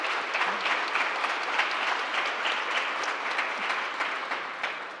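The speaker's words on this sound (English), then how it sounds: "Can we just give the panelists a round of applause?" Audience applauding panelists at a summit panel discussion, steady dense clapping from a sizable crowd that holds for several seconds and then starts to taper off.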